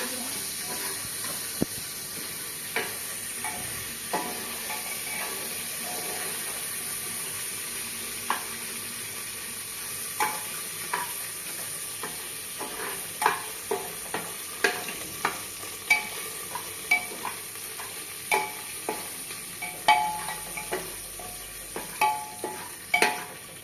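Onions for chicken gravy frying in a pan with a soft, continuous sizzle, broken by frequent sharp clicks and scrapes of a spoon that grow denser and louder toward the end.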